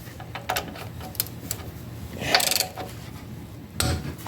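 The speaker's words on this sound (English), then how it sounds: "So we're gonna switch over to our ratchet." Hand ratchet working a 14 millimeter bolt during a truck oil change, a series of faint clicking strokes and metallic ticks spaced irregularly, close but quiet.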